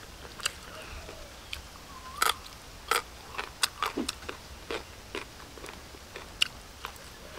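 Crispy deep-fried stink bugs crunched between the teeth: a series of sharp, close crunches and bites in an uneven rhythm, some louder snaps standing out over a quiet background, with no talking.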